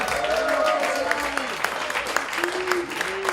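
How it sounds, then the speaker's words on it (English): Audience applause at an entertainment company's launch event, a steady wash of clapping with sharper claps on top, under a voice speaking. "I want to give a big round of applause for my really good friend"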